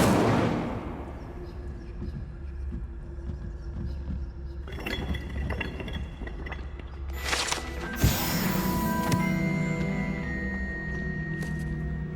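Incendio fire spell in Hogwarts Legacy, a whooshing burst at the start followed by crackling, clinking magical shimmer and a sharp flare near eight seconds, with no talk.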